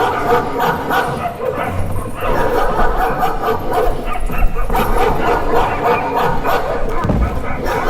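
Several dogs bark, yip and whimper as a sound effect in a staged theatre play, loud and close with overlapping barks throughout, mixed with some background voices.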